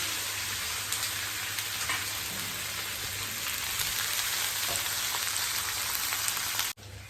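Onions and green chilies fry in oil for mutton biryani, a dense, even crackle like rain on a surface that continues steadily before cutting off abruptly near the end.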